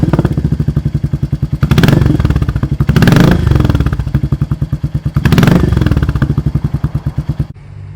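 A Royal Enfield motorcycle engine fitted with a Delkevic exhaust pipe thumps in a loud, deep, steady pulse close by. It swells in several rev surges before cutting off near the end, with no talking.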